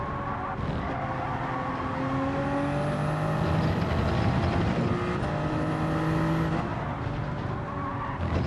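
Vehicles race in Gran Turismo 7 with layered engine drones and rising whines, joined by tire squeal, forming a loud, continuous wash of motor noise.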